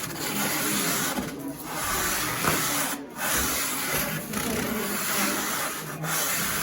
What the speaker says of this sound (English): take that sanding block and start sanding